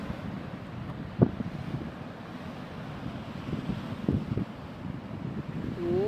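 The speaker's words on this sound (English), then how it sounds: "So water that come dash over here." Waves dash over rocks at Discovery Bay, with a steady roar of surf mixed with wind buffeting the microphone and a few sharper splashes breaking through. No one speaks.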